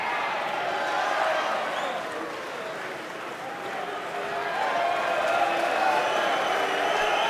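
Crowd at the Mosconi Cup pool match cheering and applauding after a deciding shot for Team Europe, a steady roar of applause and cheers filling the whole stretch at moderate loudness, with no talk over it.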